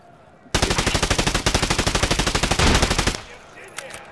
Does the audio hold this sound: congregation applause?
no